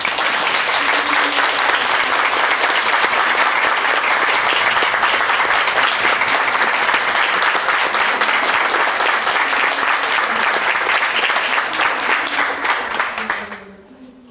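A school ceremony audience breaks into loud, dense applause that holds steady for many seconds, then fades out quickly at the end.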